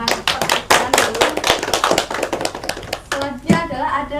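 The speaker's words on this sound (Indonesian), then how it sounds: "Bisa kita kasih tepuk tangan dulu." A classroom of students clapping hands after a microteaching reflection, a dense run of overlapping claps lasting several seconds, fairly close and loud, with some murmuring voices mixed in.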